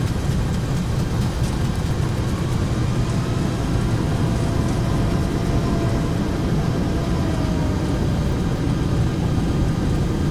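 Boeing 757 jet engines in reverse thrust during landing rollout in the X-Plane 11 flight simulator, a steady loud roar with a broad rumbling low end and hiss that holds constant throughout.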